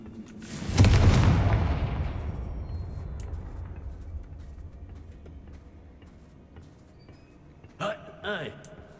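A Confringo fire spell blasts in the video game Hogwarts Legacy, one loud booming explosion that decays into a long rumbling tail, followed by brief voice calls near the end.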